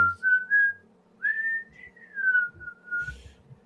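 A person whistles a clear, wavering melody in a few sustained phrases broken by short pauses, close and fairly soft, with brief low rustling noises between notes.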